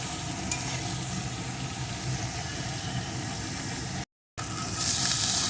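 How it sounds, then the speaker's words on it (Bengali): Eggplant pieces fry in oil with no salt or turmeric, a steady close sizzle and crackle with light stirring that runs continuously and cuts out for a moment near the end. "বেগুনগুলোও আমি সুন্দর করে ভেজে নিয়েছি"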